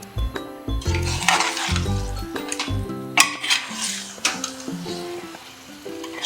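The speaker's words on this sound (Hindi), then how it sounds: "अब चिकन को हम अच्छा बढ़िया हिला लेंगे।" Chicken stirred with masala in a metal cooking pot, with close clanking and scraping of a spoon against the pot in irregular bursts, ringing metallic hits throughout.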